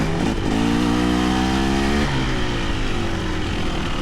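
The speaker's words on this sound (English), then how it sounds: "this is a nice motorcycle" Dirt bike engine, a Fantic XE300 or KTM 300XC-W, revs up sharply, holds a steady high rising pitch for a couple of seconds, then drops back to a rough loud idle, recorded close with no talking.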